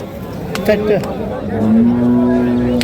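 Cattle at a weekly village livestock market in Kaharol, Dinajpur, with a low bovine call rising over a busy open-air crowd while people talk nearby.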